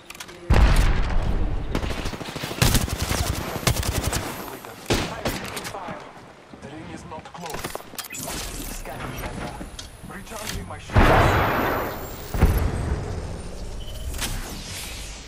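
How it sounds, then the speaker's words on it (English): Bursts of gunfire and booming shots crack through a battle royale video game round, sharp loud volleys at irregular intervals with voices talking over them. "Taking fire."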